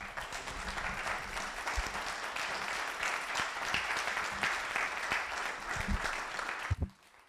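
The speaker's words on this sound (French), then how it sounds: "Je vais les applaudir chaleureusement" Warm audience applause closing a talk, a steady, fairly close wall of clapping that carries for several seconds before stopping abruptly, leaving near silence.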